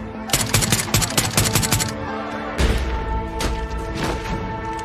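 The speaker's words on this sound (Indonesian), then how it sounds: "dia ketahuan oleh Knight yang langsung menembaknya tepat di lehernya." Rapid bursts of film gunfire rattle loudly, followed by a heavy thud and scattered shots under a dramatic music bed.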